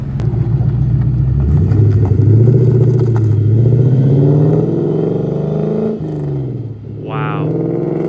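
A Ford Mustang 5.0 fitted with a Borla exhaust makes a flyby, its deep engine note building and holding loud and close before shifting and fading, with voices talking over it.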